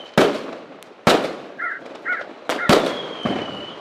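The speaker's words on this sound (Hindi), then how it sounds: "हर जगह पटाखे फूट रहे थे।" Several sharp firecracker bangs burst at irregular intervals, each a loud crack with a brief decay, with a couple of short crow-like caws between them.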